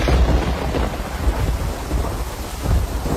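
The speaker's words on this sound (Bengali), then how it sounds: "এই যা, বৃষ্টি যে চলে আসছে" A cartoon thunderstorm: loud, dense rain roars steadily, with low thunder rumbling beneath it throughout, no voices.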